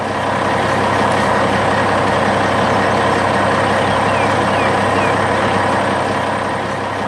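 Heavy work truck driving through a forest in a 3D construction animation, a steady loud engine drone that stays constant without letting up, with a faint voice underneath.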